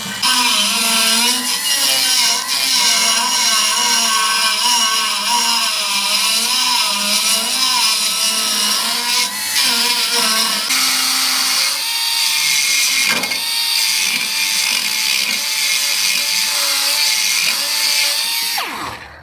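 A power drill fitted with a brand new carbide bit works on a 1959 Studebaker, whining loudly and continuously at close range with slight shifts in pitch as the bit grabs.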